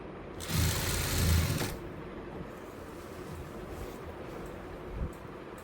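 Sewing machine stitching a ruffled frock, a short steady whirring run of about a second and a half, near and moderately loud, followed by quiet room tone.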